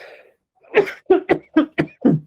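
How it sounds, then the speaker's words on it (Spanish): A quick series of coughs, five or six sharp bursts in a row, close and fairly loud after a brief pause. "Perdón que tengo tos."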